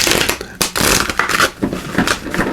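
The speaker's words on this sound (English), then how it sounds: "Let me try shuffling that a little better there." A deck of archetype cards is shuffled by hand in a series of quick, close riffles and rustles with short pauses between bursts.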